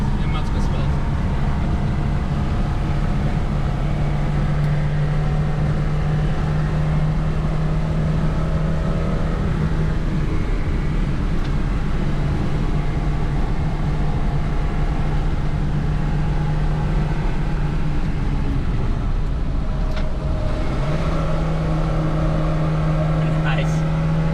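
A Lada car laps the Nürburgring, its engine holding a steady loud drone with a brief pitch dip and recovery near the end, heard continuously from inside the car.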